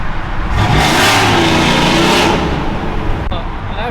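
A C10 truck engine revs up hard at roughly half throttle, a loud, close, rising roar that swells for about two seconds and then settles, with voices talking over it.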